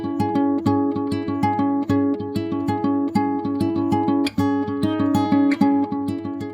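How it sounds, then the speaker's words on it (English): A dry layered acoustic guitar, effects removed, plays a triad high on the neck in a steady, rhythmic picking pattern of bright, closely spaced notes that ring out clearly and alone throughout. "This is my layered guitar."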